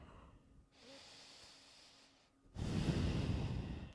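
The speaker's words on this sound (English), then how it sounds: "Breathing in and out through your nose." Nasal breathing in and out during a yoga flow in downward-facing dog: two long, soft, airy breaths, the second louder and nearer, with no talk.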